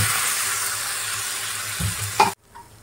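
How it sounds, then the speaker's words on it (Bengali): Spice paste sizzling in a pan for Kashmiri alur dom while a utensil stirs it in steady scrapes, loud and close, then cut off abruptly near the end. "মশলাটা এবার কষিয়ে নেব।"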